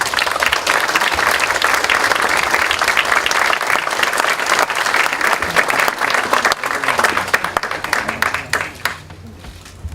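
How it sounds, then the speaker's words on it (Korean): A hall full of attendees at a joint party meeting of lawmakers and regional leaders applauds warmly, dense clapping that holds steady for several seconds before thinning out. "뜨거운 격려와 성원의 박수를 부탁드리겠습니다"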